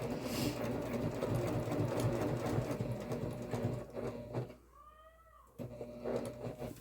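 A sewing machine stitches an X across a bag strap, its steady whirring run of stitches broken by a short pause with a thin mechanical squeal before it starts up again.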